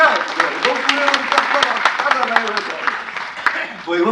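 Applause from an audience at a talk, a dense patter of many hands clapping, fairly loud and sustained for a few seconds, with voices mixed in.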